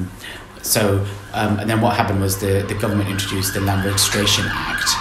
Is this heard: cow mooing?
no